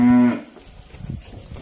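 A Simmental cow in a cattle pen gives one loud, close, steady moo that cuts off after a moment, followed by low shuffling pen noise.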